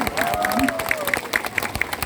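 Audience applause at a sea lion show at West Midland Safari Park, a steady patter of clapping from a crowd lasting about two seconds, with a presenter's voice running over it.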